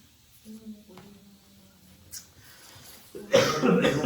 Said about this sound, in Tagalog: Ako hindi rin talaga kasi inuubo talaga ako.